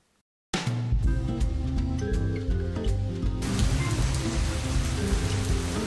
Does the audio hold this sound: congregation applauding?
no